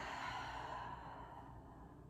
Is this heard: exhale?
yes